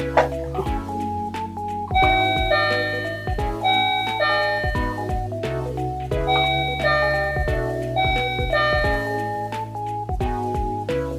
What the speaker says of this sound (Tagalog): let's try our new wireless doorbell